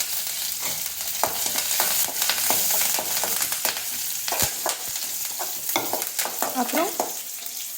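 Cumin, crushed garlic, curry leaves and dried red chillies frying in hot oil for a tempering, a loud close sizzle with stirring scrapes and crackles, and a brief spoken word.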